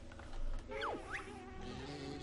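Bee buzzing in the video game Banjo-Tooie, a steady insect drone with a couple of quick pitch swoops as it flies, heard alone over low game background sound.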